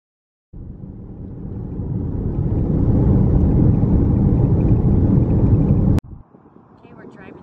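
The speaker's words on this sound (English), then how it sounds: "we're driving through the Grand Teton National Park" Car driving along Highway 26 through Grand Teton National Park, a steady interior road and engine rumble that starts suddenly, builds slightly, then cuts off with a click before a quieter stretch.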